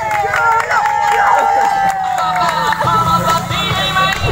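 A crowd cheering for triathletes at the Ironman 70.3 Philippines race in Cebu, with steady, loud roaring and shouting and voices babbling throughout, nearby and continuous.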